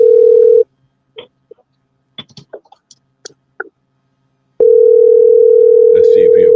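Steady telephone dial tone sounds loud and alone, then cuts off for a stretch of faint clicks and brief speech fragments before the tone returns at full strength.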